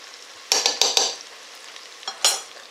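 Chinese curry sauce with five spice being stirred in a pan: a few close scraping, sizzling strokes in quick bursts, then a pause and one more short burst, with no talking.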